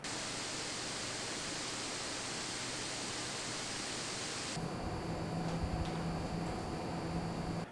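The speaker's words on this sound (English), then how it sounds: "Here's some sound from desktop under load versus laptop from our previous review" Steady hiss of a desktop PC's fans under load, then an abrupt switch to a laptop's fan noise under load, a similar constant whir with a faint tonal hum and a few soft ticks.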